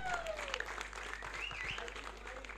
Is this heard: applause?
yes